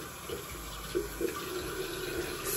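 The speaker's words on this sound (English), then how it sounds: "I'm gonna rinse this part off, all the soap." Tap water runs steadily over a skin care cleansing brush head as the soap is rinsed off, a quiet and even hiss with faint splashes and no talking.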